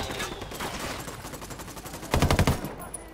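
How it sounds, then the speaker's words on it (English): Mortar shells landing close by in Ghost Recon Wildlands, a cluster of heavy thudding impacts in quick succession over ongoing battle noise and gunfire. "there's a mortar hitting by there"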